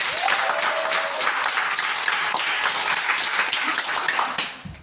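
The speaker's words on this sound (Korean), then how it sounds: "박수 한 5초만 주기 시작할까요?" A seminar audience at a business leadership lecture claps together on cue, a dense, steady wash of many hands lasting about four and a half seconds before cutting off sharply.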